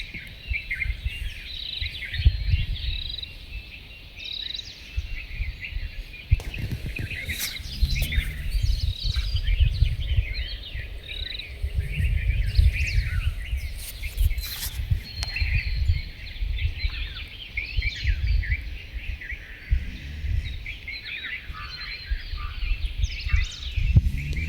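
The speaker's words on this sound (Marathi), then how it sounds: "सकाळ सकाळी पक्ष्यांची किलबिलाट आहे का." Birds chirp and twitter in the early morning outdoors, many small high calls overlapping continuously at a moderate distance over a low background rumble.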